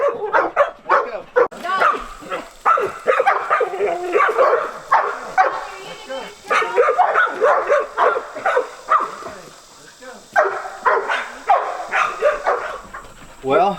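Dogs bark, yip and whimper excitedly in repeated bursts close by, with a person's voice talking over and between them.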